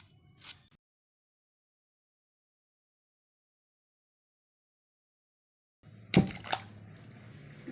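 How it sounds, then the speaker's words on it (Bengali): Peeled raw mango being rinsed in water: a short splash at the start, then a long quiet gap, then close, fairly loud splashing and sloshing that carries on to the end. "ধুয়ে নেব ধুয়ে রাখি"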